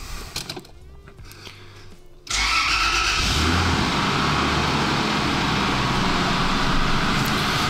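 A Toyota Land Cruiser 80 with a newly installed engine cranks briefly after a quiet stretch, catches, and settles into a loud, steady running idle close by.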